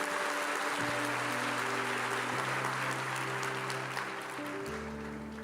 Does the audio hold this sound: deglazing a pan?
no